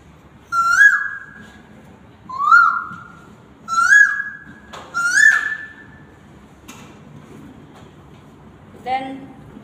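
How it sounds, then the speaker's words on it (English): A cuckoo call sounds four times in an even rhythm, clear and close against quiet, then a softer call follows near the end. "Then cuckoo."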